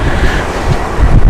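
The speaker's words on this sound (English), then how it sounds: "it is very windy" Strong wind buffeting a microphone outdoors at Heathrow Airport, loud low rumbling gusts that swell and surge, with no voices.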